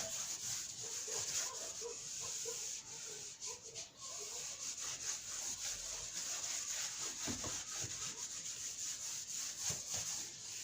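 Board eraser rubbing across a board, a steady continuous scrubbing texture with rhythmic strokes that stays close and fairly loud for the whole stretch, with no talk over it.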